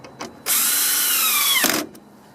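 A power drill runs bolts into a part on a Ford EcoBoost, one loud burst of about a second and a quarter that winds down in pitch, with quiet clicks before and after.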